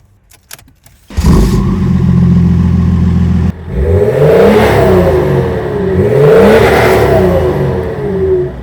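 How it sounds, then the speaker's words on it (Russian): A BMW E39 530d diesel with a Stage 3 tune bursts into loud, close engine noise, then pulls away and accelerates hard through the gears, each rising surge of revs breaking off at a shift, with no talking. "Трогаюсь я с одной педали"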